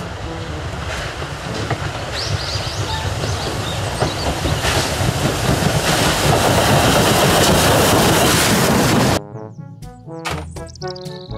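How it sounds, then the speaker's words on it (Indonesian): A Thomas toy train rolls with a loud, steady, close rattling clatter that builds for about nine seconds, then cuts off abruptly, leaving short, light clicking sounds. "Kereta Thomas."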